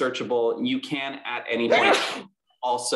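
A single sharp sneeze bursts out near the end of a workshop presenter's steady talk, followed by a brief silence before speech resumes.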